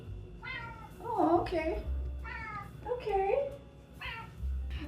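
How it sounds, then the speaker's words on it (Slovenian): A house cat meows repeatedly at close range indoors, several drawn-out, rising and falling calls in a row, while someone speaks briefly nearby. "To je njen maček."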